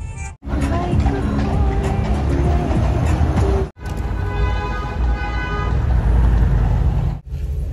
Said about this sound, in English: All the cars are lined up behind me. You probably can hear them there.